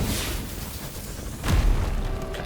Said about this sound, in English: that is a big explosion